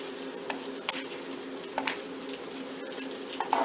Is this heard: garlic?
yes